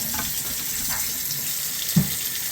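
Hot water runs steadily from a three-handle Price Pfister faucet into a sink, a short continuous splash with one brief knock near the end and no voices.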